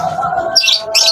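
A captured pigeon lets out loud, harsh squawks and chirps in two close bursts over a steady higher tone, near and loud, with no talking.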